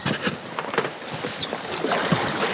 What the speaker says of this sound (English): Okay, we're getting in the boat.